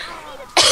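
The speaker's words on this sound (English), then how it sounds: "I'm sorry if I am coughing in your ears" A sick gamer coughs sharply and loudly into a headset microphone, a single harsh burst cutting in after quieter background hiss.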